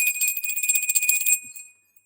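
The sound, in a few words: bell rung to cleanse energy before a tarot reading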